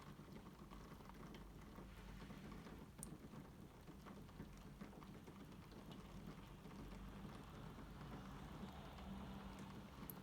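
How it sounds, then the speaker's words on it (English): Heavy rain keeps coming down, a faint, steady hiss and patter with scattered louder drops and a low rumble beneath. "The rain really coming down."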